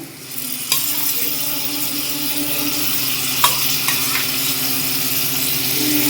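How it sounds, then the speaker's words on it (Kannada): Hot oil sizzles steadily in a pan as spoonfuls of yogurt go in for tomato rice, a continuous frying hiss with a few sharp spits and stirring clinks, no talking. "ಈ ಸಮಯದಲ್ಲಿ ನಾನು 3 ಸ್ಪೂನ್ ಮೊಸರು ಹಾಕ್ತಾ ಇದ್ದೀನಿ."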